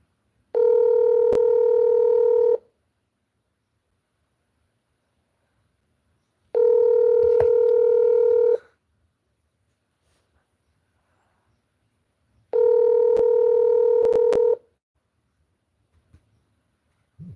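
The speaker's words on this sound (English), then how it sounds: "You want to call Joy?" Telephone dial tone on a landline while setting up a three-way call, heard as three loud, steady two-second tone bursts separated by silence, with faint clicks in the gaps and no speech.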